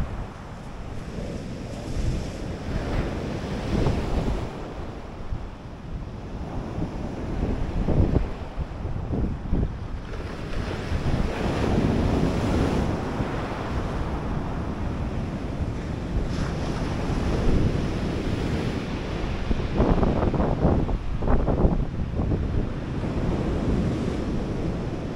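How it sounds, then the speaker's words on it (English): Sea waves rolling onto the shore at Eastbourne as dusk falls, a steady loud wash of surf with swelling breakers, heavy wind buffeting the microphone throughout and no voices. "Here is the lovely sea and the lovely sound of the sea is beautiful."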